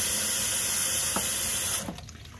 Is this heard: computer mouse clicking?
no